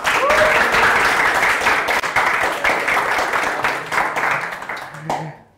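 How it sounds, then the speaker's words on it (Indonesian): An audience applauds at an indoor entrepreneurship show, with dense, loud clapping that keeps going and then dies away at the end. "Tepuk tangan dong."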